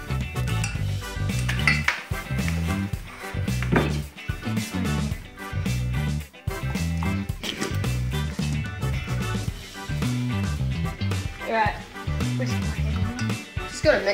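Cake batter with cocoa is mixed in a bowl, with clattering and scraping of a utensil against the bowl under loud music, while voices talk over it.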